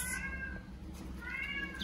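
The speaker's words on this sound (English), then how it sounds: "You hear Luna meowing in the background." A pet cat meowing faintly in the background, two drawn-out calls at the start and end over a steady low household rumble.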